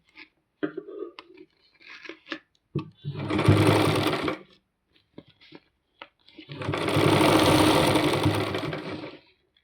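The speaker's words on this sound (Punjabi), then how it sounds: "ਫੇਰ ਆਪਾਂ ਇਹਨੂੰ ਕਮਾਵਾਂਗੇ" A sewing machine stitches a zipper strip for a jute bag in two long runs, the first about a second and a half and the second about three seconds, with scattered handling clicks and rustles between them.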